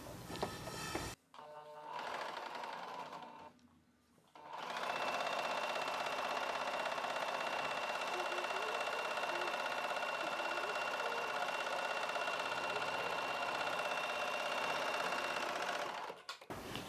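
A sewing machine runs steadily for over ten seconds while stitching a folded blouse lining, with a brief start and a pause before the long continuous whir. The sound is close and even, with no talking.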